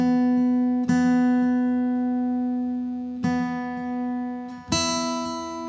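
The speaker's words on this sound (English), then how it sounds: "Let me get tuned up, it'll sound even better." A guitar being tuned, three plucked notes ringing out and slowly decaying one after another, each sustained for a couple of seconds, with no talking.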